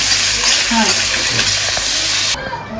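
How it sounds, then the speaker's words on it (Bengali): Onions frying in a pan for Bengali chicken curry make a loud, close, hissing sizzle with stirring scrapes, which cuts off abruptly near the end, leaving faint background sounds. "মিডিয়াম গাঢ়া পেঁয়াজ একটু ভাজি না ভালো মতো"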